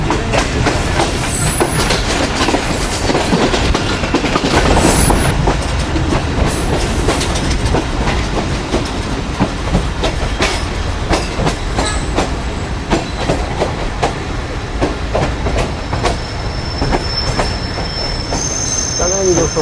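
The Sukkur Express, a passenger train bound for Karachi, runs along the rails with a steady, loud rumble, rhythmic clickety-clack and recurring high-pitched wheel squeals from close by, with faint talk now and then.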